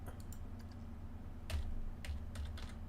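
Computer keyboard typing: scattered soft key clicks and a few heavier taps over a constant low electrical hum. Quiet, fairly close, and without any talking.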